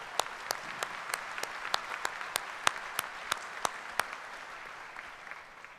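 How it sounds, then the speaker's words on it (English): Scattered, fairly sparse clapping from a graduate school commencement audience at SIUE honoring the Chancellor's Council, distinct individual claps in a steady patter over a hall background, tapering off toward the end. "let's give a round of applause to the Chancellor's Council"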